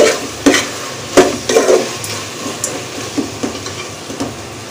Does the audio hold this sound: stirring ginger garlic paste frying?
yes